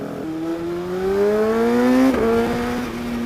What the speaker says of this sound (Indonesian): Kalau di RPM tengah sih nembak lu, mantap sekali Mas Erga.